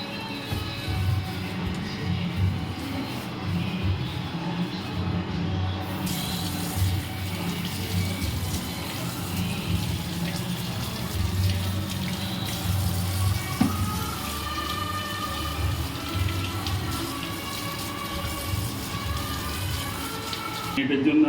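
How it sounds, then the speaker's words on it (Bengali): Raw chicken is washed under a running tap, with a steady splash and gurgle of water hitting the meat and sink, fairly quiet in a home kitchen while a voice speaks now and then. "এবার চিকেনটা ধুয়ে নেবো"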